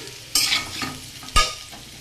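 Potatoes and taro fry loudly in a pan for a vegetarian vegetable curry, with a steady sizzle and two sharp spatula scrapes and clatters about a second apart.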